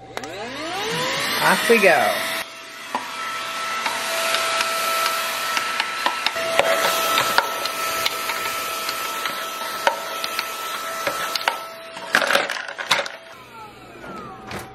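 A Brigii M1 handheld vacuum whirs steadily while it cleans crumbs and dust out of a silverware drawer, with knocks and rattles against the drawer, and a voice speaks briefly at the start.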